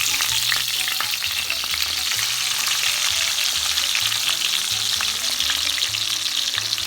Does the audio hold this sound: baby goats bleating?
no